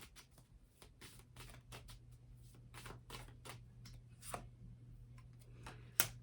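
Tarot cards are shuffled and drawn in quiet, close riffles and flicks, a rapid run of soft papery slaps over a low steady hum, ending with one sharper card snap.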